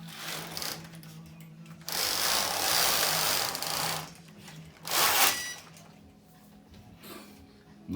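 The carriage of a Passap E6000 knitting machine slides across a row, giving loud rasping, clattering sweeps in two main passes with quieter mechanical rattles between.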